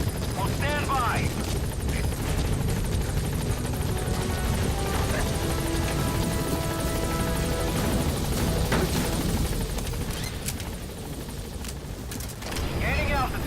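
A helicopter in Metal Gear Solid V idling and lifting off at a landing zone, a loud continuous rotor thrum with low rumble throughout, radio voices and talk layered over it.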